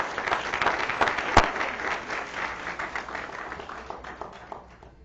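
A school board meeting audience gives a final round of applause for AP scholars, a sustained burst of many hands that slowly thins out, with one sharp knock partway through.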